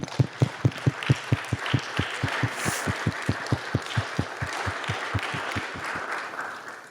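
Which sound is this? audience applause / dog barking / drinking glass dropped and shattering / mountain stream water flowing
audience applause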